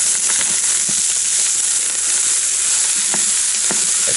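Food sizzles and fries steadily in a hot pan, a constant loud hiss with occasional scraping knocks of stirring, no talking.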